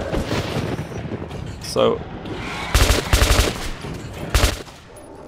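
Gunfire from a weapon in the Metro 2033 Redux video game, heard as several short bursts of shots with a faint earlier report, set against game ambience while someone talks.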